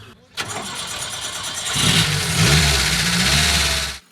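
A small buggy engine cranks briefly and then catches, settling into a loud, steady running rumble nearby.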